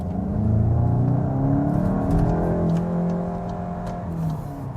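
A Volkswagen Golf GTI Mk8 pulling hard in sport mode, its engine note a steady, rising mid-range drone heard from inside the cabin, continuous for several seconds without speech.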